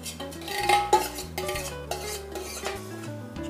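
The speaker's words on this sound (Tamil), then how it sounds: "வதங்கின உடனே இப்போ இந்த சிக்கனை இதில் சேர்த்துடலாம்." Chicken pieces tipped into sautéed masala in a pan for chicken biryani and stirred, with clattering metal spoon scrapes and knocks against the pan close up, no voices.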